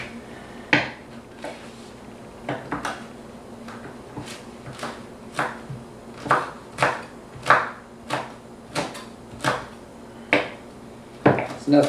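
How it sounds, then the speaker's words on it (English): A knife chops fresh sage on a board in a home kitchen, giving a steady series of close, distinct knocks, about one every half second, heard alone. "So also got to chop up the sage."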